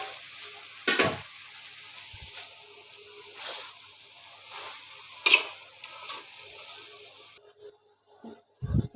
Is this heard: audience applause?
no